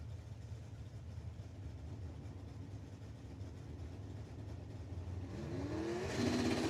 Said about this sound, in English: RPMs come up, big wheel standing launch